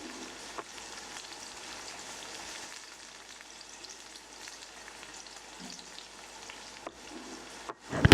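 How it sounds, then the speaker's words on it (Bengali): Tomatoes fry in a pan with salt and chili, a steady soft sizzle running throughout with faint stirring taps near the end. "টমেটোগুলো যতক্ষণ না গলবে ততক্ষণ ভাজবো।"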